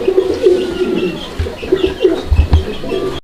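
Fancy pigeons coo in repeated low, throaty phrases that stay close and loud, with a few sharper bumps and shuffles near the end and no talking.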